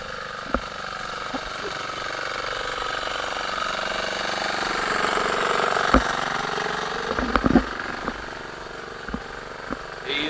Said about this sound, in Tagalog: Yun yung motor papunta dun sa swimming pool,